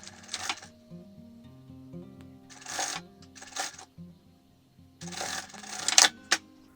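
A sewing machine runs in short bursts of rapid mechanical clatter as it stitches along the folded edge of a fabric mask, close and clear, with quiet pauses between the runs.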